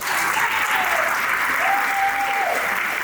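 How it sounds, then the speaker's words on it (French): Church congregation applauding steadily and loudly, a dense continuous wash of clapping with a faint voice or tone drifting beneath it. "Si tu es d'accord, tu peux acclamer Jésus-Christ."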